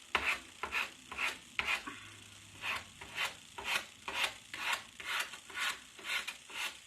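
Hand sanding of wood with abrasive paper, steady back-and-forth rasping strokes repeating in an even rhythm, close and moderately loud with no talking.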